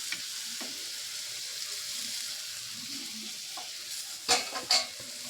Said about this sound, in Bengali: পেঁয়াজ আর টমেটোটা এর মধ্যে দিয়ে দেব।